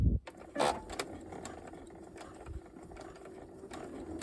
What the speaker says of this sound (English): so let's sew the seam